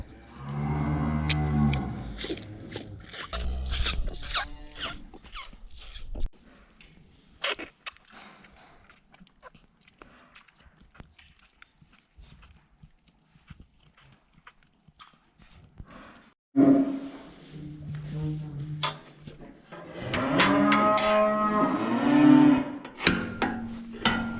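Fattening cattle in a pasture moo repeatedly, loud and near at the start and again near the end, with a quieter stretch of shuffling and farm noise between.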